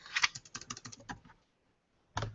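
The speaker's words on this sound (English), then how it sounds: "I'll show you as I start typing in my last name." A quick burst of keystrokes on a computer keyboard as a last name is typed, a brief pause, then one more tap, close and fairly quiet.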